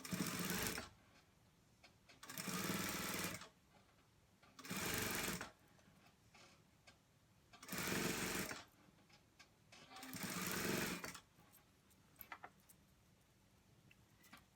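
A sewing machine stitches a fleece hoodie along a folded seam line in five loud, steady bursts of motor whir, each lasting about a second, separated by short quiet pauses.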